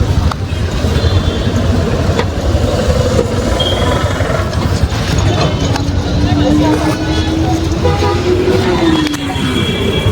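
Busy road traffic in Tirunelveli with a continuous wash of engines and passing vehicles, a sustained horn toot rising and falling near the end, and people talking over the noise.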